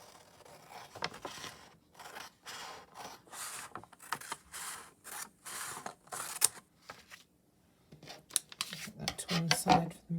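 Scissors snipping through paper while making craft pockets, a close series of short crisp cuts in uneven bursts, with some quiet handling noise and a little talk near the end.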